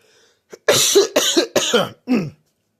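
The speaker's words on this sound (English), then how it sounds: "Excuse me, I just coughed." A short burst of coughing, four or five harsh coughs in quick succession, close and loud, with a brief catch just before.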